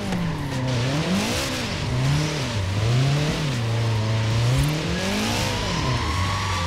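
Subaru with a standard boxer engine revving and accelerating in the racing game Forza Horizon 4, its engine tone rising and falling repeatedly through gear changes, loud and continuous with a faint tire squeal near the end.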